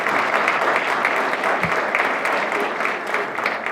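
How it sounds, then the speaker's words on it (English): At an awards ceremony honoring women from the community, a full room claps in a dense, steady roar, loud and continuous throughout. "Round of applause, please."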